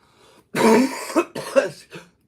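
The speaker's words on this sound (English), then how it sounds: "that cough thing, really dry." A short burst of dry, harsh coughing, two or three rasping hacks close to the microphone, then quiet.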